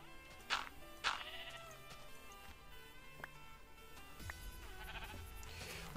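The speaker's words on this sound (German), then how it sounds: "Wir sind ja so viele Schafe." Sheep in the video game Minecraft bleat twice in quick succession near the start, then fainter game sounds and soft background noise continue.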